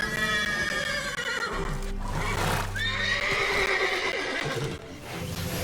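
Several horses in The Witcher 3 video game whinny loudly and shrilly, one neigh after another, with hoofbeats clip-clopping underneath.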